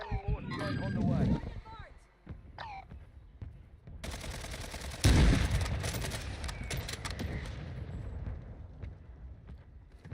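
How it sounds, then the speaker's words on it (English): A friendly mortar strike in Call of Duty Warzone lands as a loud, rumbling cluster of explosive booms midway through, after a stretch of people talking, with the blasts fading into a noisy tail. "Friendly mortar strike on the way."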